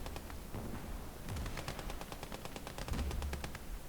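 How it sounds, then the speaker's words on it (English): Rapid bursts of Maxim machine gun fire from a World War battle in a strategy game, a steady rattling stream of sharp cracks with heavier booms underneath, loud and continuous. "Let's listen to the beautiful sound of the Maxim."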